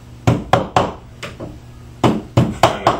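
Mallet hammer knocks on a loose window glazing bead, seven or eight sharp, close taps in an irregular rhythm with a short pause in the middle, each ending in a brief woody thud.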